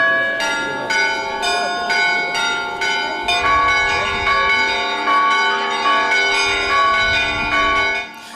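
Church bells peal repeatedly on Palm Sunday in a steady overlapping rhythm, bright and ringing, with a faint crowd murmur beneath.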